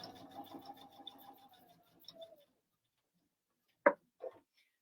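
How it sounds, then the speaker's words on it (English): A sewing machine runs a short burst of rapid, even stitching along a straight line, slowing to a stop, followed by a couple of quiet clicks of handling nearby. "I'm just going to sew along that straight line."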